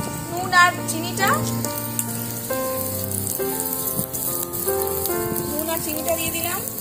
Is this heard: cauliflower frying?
yes